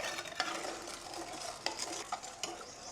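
Grass jelly powder stirred into water: continuous close swishing and scraping of a utensil against the bowl, with a few sharper clinks, no talking.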